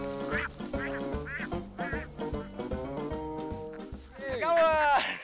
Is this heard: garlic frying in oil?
no